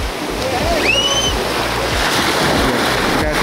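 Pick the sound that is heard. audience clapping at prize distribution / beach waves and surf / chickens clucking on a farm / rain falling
beach waves and surf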